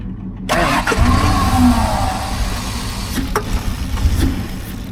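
An older Ford Explorer engine cranks and starts, then runs rough with uneven revving and a hissing suction sound from a faulty idle air control valve, loud and close throughout.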